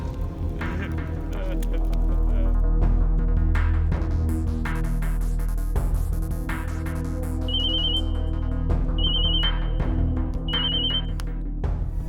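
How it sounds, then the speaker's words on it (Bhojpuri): A telephone rings on an outgoing call in a Bhojpuri film scene, its short repeated high electronic ring bursts sounding over a steady background music bed with faint voices. "सूरजभान सिंह के फोन लगाओ"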